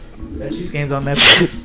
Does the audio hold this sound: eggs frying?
no